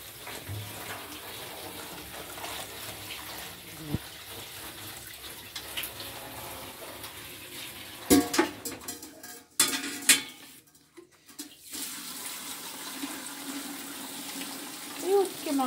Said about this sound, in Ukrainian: Наливається в бочку.